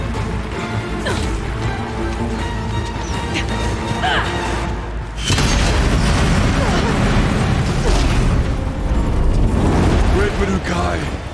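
Explosive ammo blasts in Horizon Zero Dawn The Frozen Wilds, loud crashing booms that swell sharply midway into a dense, continuous barrage of impacts and debris, mixed with game score and effects.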